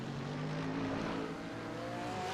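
Ford GT GT3 race car engine in a sim racing event at Oulton Park, a steady droning engine note with audible pitch shifts as it accelerates out of a corner, moderately loud and continuous.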